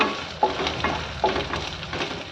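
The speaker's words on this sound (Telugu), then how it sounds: "కరివేపాకు, పచ్చిమిర్చిని కూడా వేసి మనం చక్కగా వేయించుకోవాలి" Curry leaves and green chillies frying in hot oil for a mushroom masala gravy, a steady close sizzle with a few stirring clicks from a spoon against the pan.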